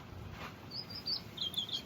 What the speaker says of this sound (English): you hear that? Birds chirping.